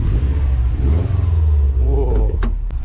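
Subaru fitted with a Grimmspeed cold air intake and aftermarket exhaust, engine revving with a loud, sustained low rumble that swells and falls, heard from inside the car with brief sharp clicks near the end.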